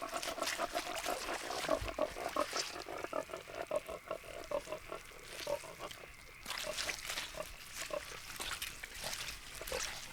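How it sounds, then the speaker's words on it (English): A wild boar grunts repeatedly while wallowing in cool mud in Spain's Doñana wetlands, with a rapid, rhythmic string of low snorting grunts that continues for about ten seconds alongside soft squelching and ambient outdoor noise. "Ever cautious, the dominant boar tests the wind."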